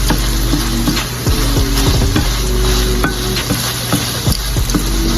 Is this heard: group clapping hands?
no